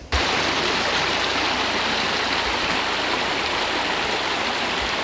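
Water in a regulated creek bed rushes in a dense, continuous broadband hiss, loud and close, steady from start to finish with no voices.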